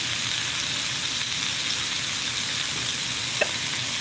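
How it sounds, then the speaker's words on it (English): Food frying until crispy in a pan, giving a continuous dense sizzle and hiss at a steady level throughout, close and loud. "So I'm going to let that cook up and let it get kind of crispy like bacon bits."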